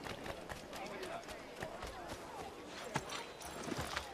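Horse hooves clip-clop in the Assassin's Creed video game, a fast, rhythmic run of hoof strikes at moderate level with a voice talking over it.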